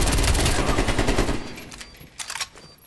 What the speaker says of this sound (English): Being shot.